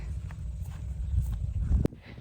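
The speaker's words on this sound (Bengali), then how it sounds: "এই চরে না হলেও ত্রিশটির মতো ঘোড়া রয়েছে যেগুলো ছন বা কাশবন কেটে বহন করার কাজটি করে থাকে" Working horses on a river char island, used for hauling cut thatch grass, walk with soft, irregular hoof clops over a low rumbling background, ending in a single sharp knock.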